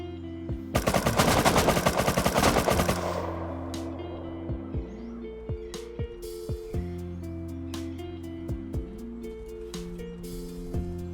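AK rifle fire in a video game: a long, loud rapid-fire burst, then scattered single and double shots further off over a steady tonal game hum, with no talk.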